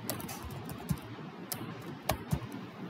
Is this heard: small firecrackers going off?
no